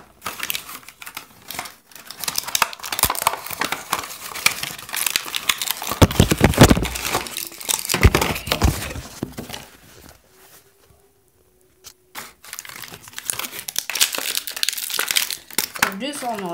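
Crinkling plastic packaging from Minecraft Mini Figures being unboxed in a quiet bathroom, a dense, close rustle that runs almost throughout, briefly dropping to near silence before resuming.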